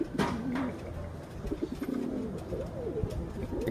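Pigeons coo softly and repeatedly amid a busy outdoor background with rustling and wingbeats, at a loft where racing pigeons are returning.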